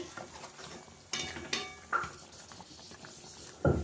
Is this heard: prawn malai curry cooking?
yes